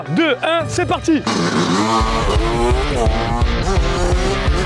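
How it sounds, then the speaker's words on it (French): Motocross bike engine revving hard for a wheelie attempt, loud and close with rising and falling pitch and rough roaring bursts after a brief countdown voice, with people talking over it. "allume ta moto et fais-nous une bavette"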